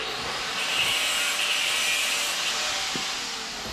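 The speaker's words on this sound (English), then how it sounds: "he comes along and grinds in the background and makes noise" Grinding noise, steady and abrasive, running continuously in the background for a few seconds at moderate level, with no talking.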